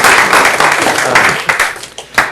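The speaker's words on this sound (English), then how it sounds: "Kevin certainly deserves applause." An audience claps for Kevin Fye, a communications and events director, at a public event: a dense, steady round of applause filling the short stretch, with a few sharper individual claps standing out near the end.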